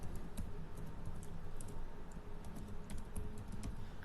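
Rapid, steady clicking of computer keyboard keys while C code is entered, close and continuous over a low background hum, with no speech.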